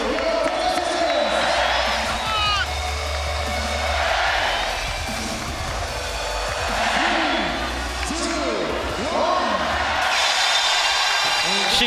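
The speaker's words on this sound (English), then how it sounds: "she was willed on by this crowd here in Madrid" A large crowd at a women's CrossFit regional event in Madrid roars and cheers continuously for an athlete, loud and sustained, with thuds of equipment and a commentator talking over it.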